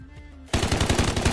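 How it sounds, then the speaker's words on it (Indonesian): Automatic gunfire in the shooter game Delta Force breaks in abruptly after a quiet moment, a loud, rapid burst of evenly spaced shots close by. "Suara tembakan sudah terdengar di gedung tengah."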